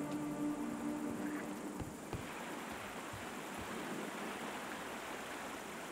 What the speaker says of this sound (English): Ooh, I like the water effects.